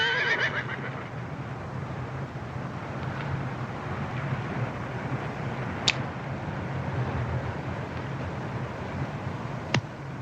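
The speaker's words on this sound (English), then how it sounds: "Caballo" A horse gives a short neigh right at the start in an outdoor Western film scene, then steady wind-like background noise continues with a couple of faint clicks and no talk.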